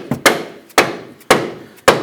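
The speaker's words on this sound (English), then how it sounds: "Now I'm using a rubber mallet or a dead blow." A rubber mallet taps a ball joint into the steering knuckle of a 2006-2010 Hummer H3, four sharp close blows about half a second apart.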